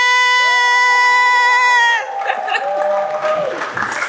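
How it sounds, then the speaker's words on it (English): Applause from a gathered crowd at an anniversary open house, a dense burst of clapping that follows a sustained ringing tone and carries on fairly loud to the end. "a round of applause"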